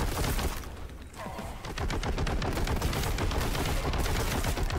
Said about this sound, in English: Heavy bolter.